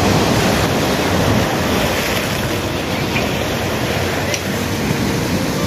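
Ocean waves wash in continuously at Papuma beach in Jember, East Java, a loud steady surf roar mixed with wind buffeting the microphone.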